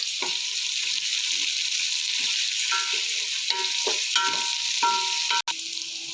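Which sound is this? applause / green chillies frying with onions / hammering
green chillies frying with onions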